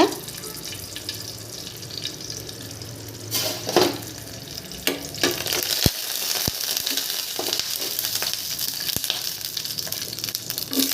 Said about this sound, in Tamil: பச்சை மிளகாய் காய்ந்த மிளகாய் கிள்ளி போடுங்க